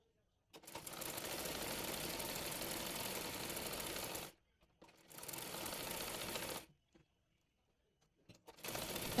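A sewing machine stitches a baby frock in three close, even bursts of rapid mechanical whirring, with short silent pauses between the runs.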